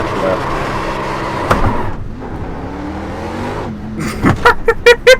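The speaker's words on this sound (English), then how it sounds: "This is why you don't do extensive burnouts in the pit lane." Race car burnout in a NASCAR pit lane in iRacing, a loud sustained engine roar with revving and tyre noise that drops off, then sharp repeated bursts near the end.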